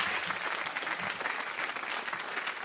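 Audience applause for two fighters at a combat sports event, a continuous wash of crowd clapping at even volume throughout a short stretch.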